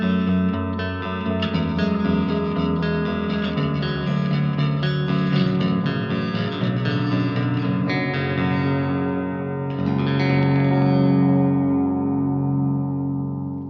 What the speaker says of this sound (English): I think baritone clean tones are always such an interesting thing to try and dial in.